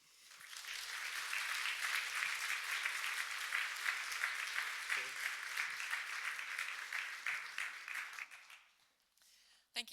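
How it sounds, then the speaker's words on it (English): An audience at a family medicine research breakfast applauds its speakers. The clapping is sustained and dense, holds steady for about eight seconds, then fades out. "a round of applause for all of our great speakers today"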